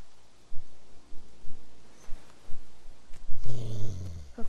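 A dog growls in The Walking Dead video game, a low rumbling snarl in short repeated bursts that swells louder toward the end, with faint game ambience underneath.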